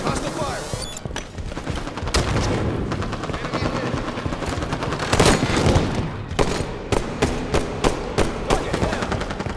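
Hostile automatic gunfire crackles through a video game firefight, dense bursts and sharp volleys hammering almost without pause, with loud peaks near the middle and end, while voices call out under the shooting.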